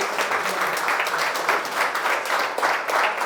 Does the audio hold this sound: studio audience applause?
yes